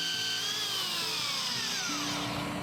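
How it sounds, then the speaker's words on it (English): A power drill boring into donated tree trunks, a brief, close, continuous whine whose pitch slides downward as the bit bites into the wood. "There's the drilling."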